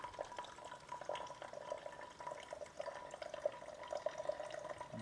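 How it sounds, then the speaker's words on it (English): A GROWNSY instant baby bottle water warmer pours a steady, soft stream of water, a continuous trickling and splashing with faint drip-like accents and no talking. "It turns your light on, and then it'll start dispensing your water. So it comes out at a decent stream."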